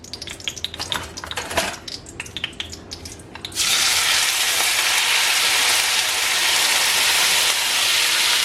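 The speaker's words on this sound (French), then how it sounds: "Je rajoute mes oignons." Chopped onions drop into a hot pan of simmering kefta tajine: a few clinks of a utensil, then a loud, steady sizzle that stays close and constant.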